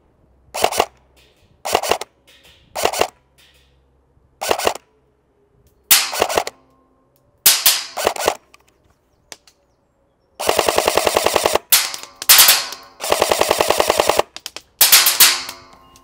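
A Delta Armory Freya airsoft gun fires BBs in sharp single shots and short bursts, then longer rapid strings, each followed by distinct impacts on a far target, loud and clear with no talking.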